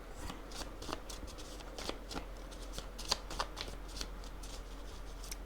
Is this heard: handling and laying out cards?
yes